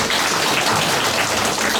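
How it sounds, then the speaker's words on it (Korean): A crowd at a pepper-seedling farming class gives its instructor a big round of applause: a steady, loud wash of many hands clapping, close and unbroken, with no voices. "금일 고추재배 교육을 해주신 우리 신동익 강사님께 다시 한번 큰 박수 부탁드리겠습니다"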